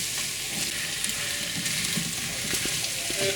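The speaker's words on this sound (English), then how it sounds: "Now we've stirred all the spices into the potatoes" Spiced potatoes and aubergine being stirred in a frying pan for a potato and aubergine curry, giving a steady sizzle with scattered scraping clicks of the spoon, close and moderately loud, with no talking.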